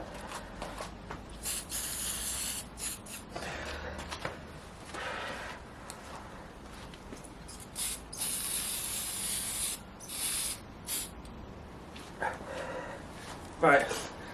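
Blue spray paint hisses from an aerosol can onto a Tamiya Plasma Edge II RC car body in bursts of several seconds. Quieter gaps fall between the sprays, and a person talks over parts of it.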